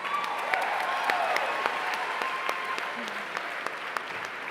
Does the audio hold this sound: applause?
yes